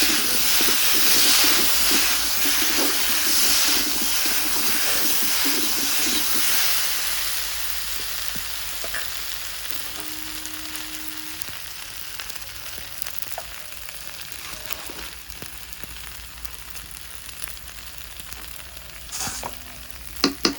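Green chili with cumin and ginger paste frying in a pan for a fish curry, a loud steady sizzle with scraping stir strokes that fades to a softer crackle, plus a few sharp clinks near the end.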